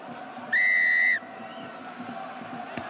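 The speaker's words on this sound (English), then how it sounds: "blows his whistle" At the kickoff of a Top 14 rugby match between Perpignan and Racing 92 at Stade Aimé Giral, the referee blows one sharp, sustained whistle blast of about half a second over a murmuring stadium crowd.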